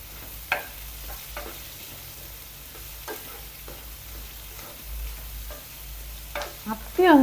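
Onions salted and sautéing in a pan, stirred now and then, a low steady sizzle with scattered scrapes and knocks of a spoon, quiet and close, ending in a louder clatter.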